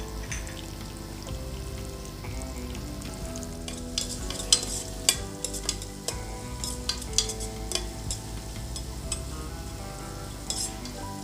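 Onions with a pinch of salt frying in oil for mutton keema pulao, a steady sizzle with repeated spatula stirs and occasional sharp clicks, heard alone.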